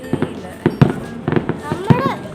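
New Year firecrackers bursting outdoors in a loose series of sharp, loud cracks, several in close succession, with people talking in the background throughout.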